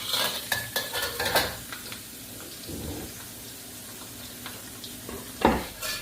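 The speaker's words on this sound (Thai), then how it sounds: "ตั้งกระทะใส่น้ำมันแล้วก็ใส่กระเทียมลงไปเจียวเลยนะคะ" Stirring and scraping in a pan over a soft sizzle of garlic frying in oil, with a few sharp clatters of utensils near the start and end.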